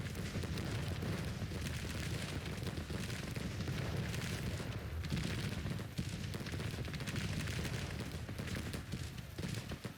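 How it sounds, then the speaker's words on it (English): Cannon fire during a counter-battery duel in Grand Tactician: The Civil War, a continuous dense rumble of distant booms and crackling battle noise with no clear pauses. "Your job cannons is just pure counter-battery fire."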